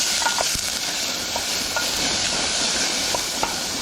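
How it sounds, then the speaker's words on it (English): Sausage, onion and garlic frying in a pot at a rainy camp cookout, a loud continuous hiss and sizzle with faint intermittent clicks of stirring, close up and with no talking. "Now we're just gonna stir this up, put some color on the onion"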